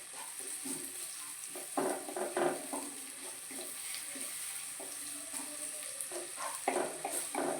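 Steady, close sizzle of curry leaves frying in hot oil, with stirring scrapes and brief louder crackling bursts over a constant hiss; no talking.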